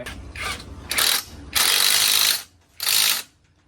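Close, loud ratchet clicking in several bursts as size 10 bolts are tightened on a Honda CBR300 exhaust, with short pauses between the runs of rapid pawl clicks.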